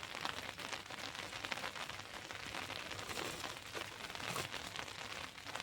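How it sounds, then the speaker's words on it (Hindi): Rain falls steadily on a rooftop garden, a soft, continuous patter of drops with no pauses, fairly faint and even throughout. "बरसात हो रहा है ना, इतना जल्दी बरसात आ गया"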